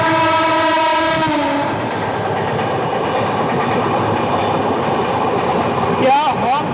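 The Mumbai Ahmedabad Double Decker Express sounds a long, loud horn blast for nearly two seconds, then gives way to the heavy rumble and clatter of rolling rail cars, with a brief squeal near the end.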